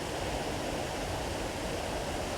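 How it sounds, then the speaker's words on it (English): Tullydermot Falls in County Cavan, Ireland, spilling from the top: a dense, steady roar of falling water, close and continuous, with no voices. "Waterfall just spilling in from the top."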